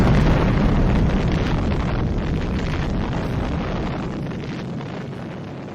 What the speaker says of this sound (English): a thunderous explosion shakes the ship, filling the air with splinters of wood